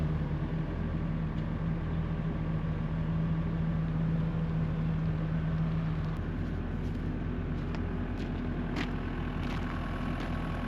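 A truck engine idles and rumbles steadily at close range while backing up a trailer, a constant low drone with a faint rising tone partway through.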